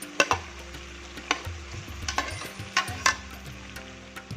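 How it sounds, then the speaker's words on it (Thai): Cucumber and tomato are stir-fried in a pan with a soft sizzle underneath. Repeated sharp spatula scrapes and clanks sound up close in an uneven rhythm. "ผัดให้เข้ากันค่ะ"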